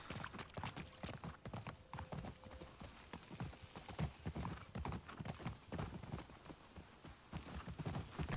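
Horse hooves clip-clop in a steady, continuous trot through The Last of Us Part 2, fairly close and dominant across the whole stretch, with an occasional whinny or soft voice underneath.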